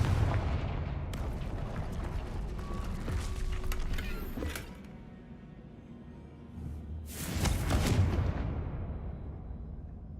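The Confringo fire spell in the video game Hogwarts Legacy, with a creaking, rumbling blast and debris clatter that fades out, then a second booming burst of rubble a few seconds later.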